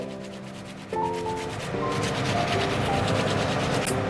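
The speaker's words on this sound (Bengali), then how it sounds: "আদাটা আপনারা বেটেও দিতে পারেন, আমি এই গ্রেটারে ঘষে দিচ্ছি।" Fresh ginger is rubbed across a kitchen grater, a continuous rasping scrape close up, growing slightly louder partway through.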